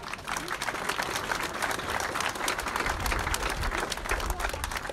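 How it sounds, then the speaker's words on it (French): A crowd gathered outdoors at a seaside promenade inauguration claps steadily and fairly loudly, with a faint murmur of voices mixed into the applause. "Certains, on peut les applaudir."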